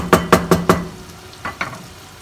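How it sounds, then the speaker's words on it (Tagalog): Meat sauce for Filipino-style spaghetti sizzles in a pan as it is stirred, four quick scraping strokes in an even rhythm followed by a pause and two softer strokes, close and fairly loud with no talking. "Haluin po natin mabuti para maghalo po yung mga lasa ng ingredients sa karne."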